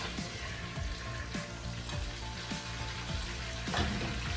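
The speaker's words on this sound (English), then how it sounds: "I'm just gonna let this fry for maybe about 2 to 3, 4 minutes." Pork belly fries in a pan for a Jamaican-style dish, a constant crackling sizzle with repeated pops and light stirring scrapes, close and even throughout.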